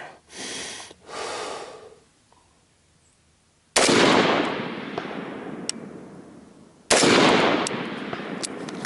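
Two loud carbine shots fired at targets on a hill about 300 yards out, each a sharp crack with a long decaying echo, following heavy close breathing from the shooter.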